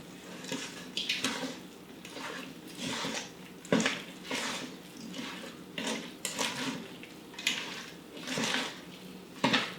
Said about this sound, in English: we just need to mix it together and make an awesome batter